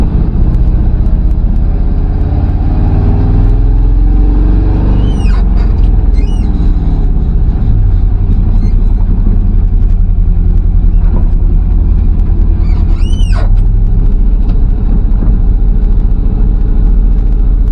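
A Mercedes turbo diesel car engine drones loud and steady while driving, with a constant low rumble and shifting tonal hum, and a few brief squeaks over the top.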